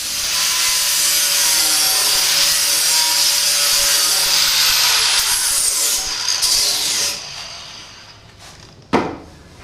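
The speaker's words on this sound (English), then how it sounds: "You want to let the flat disc do the work, not your muscles." Flap disc angle grinder trimming a steel chassis tube, a loud continuous high whine and grinding rasp that tails off near the end, followed by one brief knock.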